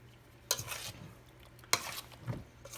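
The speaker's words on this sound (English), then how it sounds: "I just mix in a handful of my crackers" Crackers mixed by hand into a squash casserole mixture, two brief crunchy stirring strokes with soft scraping in a bowl, quiet and close with no talk.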